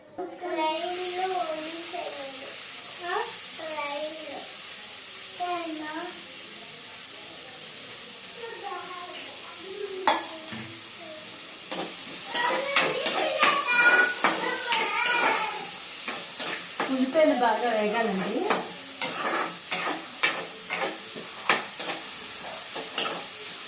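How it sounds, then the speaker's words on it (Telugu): Chopped onions frying in oil for a gongura meal maker curry, soft sizzling with spoon stirring, quieter early while a voice talks over it, then louder with clustered scraping clicks in the second half. "ఉల్లిపాయలు అయితే ఫస్ట్ వేయించుకోవాలి"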